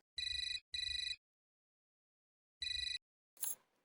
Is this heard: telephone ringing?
yes